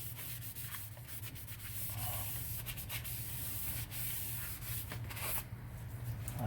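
Brake cleaner is sprayed and a rag scrubs the brake surface of a 2013 Chevrolet, giving close, quiet rubbing and wiping strokes with brief bursts of hiss in a steady rhythm.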